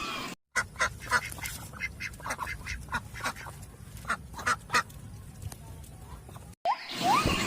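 A white duck quacks repeatedly in rapid, uneven bursts, close and fairly loud, with a couple of brief gaps in the sound.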